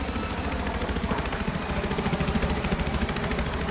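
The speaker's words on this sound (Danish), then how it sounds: "Du skal ikke bruge helikopter, Mikkel." In a video game, a helicopter's rotor beats in a steady, fast chop with continuous engine drone, fairly loud and sustained throughout with no speech.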